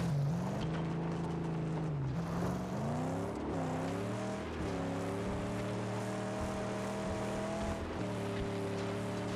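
A car engine with nitrous roars in the Mad Max video game, revving up through rising gear shifts and then holding a loud, steady drone. The car is close by with no talk over it.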